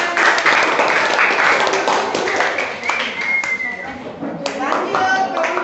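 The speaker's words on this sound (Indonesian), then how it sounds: "Tepuk tangan." Students in a seventh-grade social studies classroom clap their hands for a group that has just finished presenting. The clapping is brisk and lively, with overlapping chatter and voices throughout.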